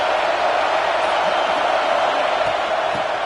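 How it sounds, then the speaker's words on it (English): A football stadium crowd at an Indiana Hoosiers at Oregon Ducks game fills the air with a steady, loud, unbroken roar of cheering and noise. "This crowd bringing the energy and noise early."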